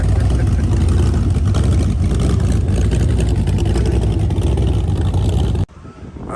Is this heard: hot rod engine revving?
yes